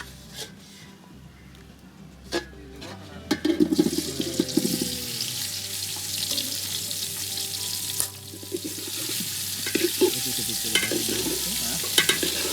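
Pieces of food fry for biryani in a pan over a wood-fired village stove, a sizzle that swells and fades under repeated stirring and splashes of water.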